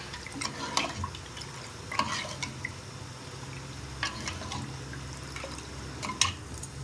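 Soft scraping and clinking as a spoon stirs tomato rasam sweetened with jaggery in a pot, faint and intermittent with irregular light taps over a quiet background.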